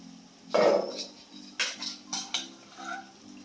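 Cooked chickpeas clatter and scrape as they are scooped from a pot into another cooking vessel, a few sharp metallic knocks and spoon scrapes over a low steady hum.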